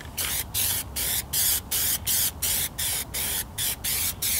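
An aerosol can sprays coating onto a rolled whip in about a dozen short, evenly spaced bursts of hiss, each lasting a fraction of a second, close to the listener.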